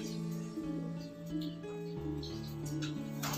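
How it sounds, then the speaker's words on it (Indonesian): Tritis mata asem bird calling close by, a steady run of tonal chirps and warbling notes that carries through the whole stretch at moderate level, with no talk over it. "Nah ini rekan-rekan burungnya nih. Tritis mata asem ya"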